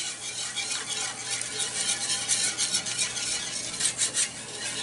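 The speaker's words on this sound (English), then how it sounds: "You can feel it with this whisk, and you can hear that skillet getting" A whisk scrapes and stirs across a skillet bottom in thickening deer sausage gravy, a steady close rasping and swishing with faint sizzle underneath, no voices.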